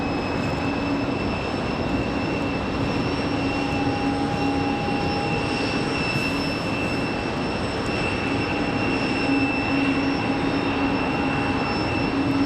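A United Boeing 737-900 jet holding at the end of the runway at Raleigh-Durham airport before departing, its engines a steady, loud, continuous roar with a constant whine, unchanging throughout and no talk.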